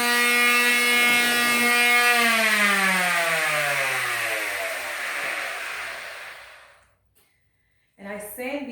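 An electric sander spins down on cut wood pieces for canvas frames, its whine gliding lower and fading to silence before a short burst of talk.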